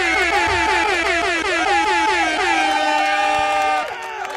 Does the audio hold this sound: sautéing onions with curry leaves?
no